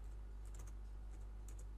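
Faint, quick typing of a note in Google Keep on a computer keyboard, a few light key clicks in short bursts over a quiet background hum.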